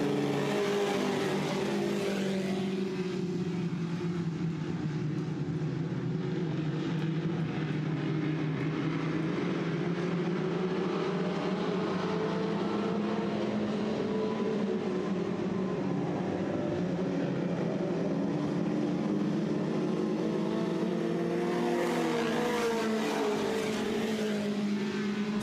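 A pack of dirt track race cars roaring off the start of a heat race at a Southern Ontario track, engines droning loud and continuous, rising and falling in pitch as the field passes, with no voices.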